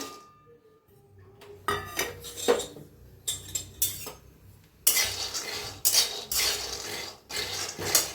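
Peanuts dry-roasted in a pan for sweet peanut poli, stirred with a spatula: a quiet start, then scraping, rattling bursts that grow denser and louder for the second half, with no talking.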